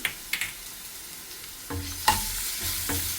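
Onion, crushed ginger and garlic frying in hot oil, a few sharp utensil clacks against the pan followed by a swelling sizzle that grows louder and denser, close and unaccompanied by speech.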